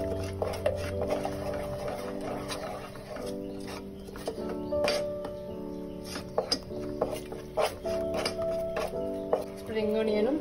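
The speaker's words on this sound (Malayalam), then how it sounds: "ഹൈ ഫ്ലെയിമിൽ ഇട്ടിട്ട് ഒന്ന് ഇളക്കി" Schezwan chilli chicken being stirred in a pan over a high flame, with scattered clinks and scraping knocks of the utensil against the pan amid sizzling, while a voice talks over it.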